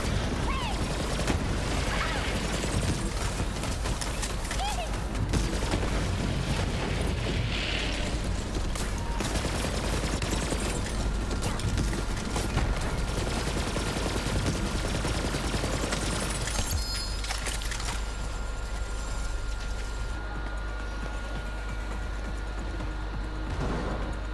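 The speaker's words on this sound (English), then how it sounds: "That shoulder cannon is so cool." Shoulder cannon firing in Borderlands 3 amid dense, continuous gunfire and explosive booms, loud and busy throughout, with a voice speaking at times under the combat noise.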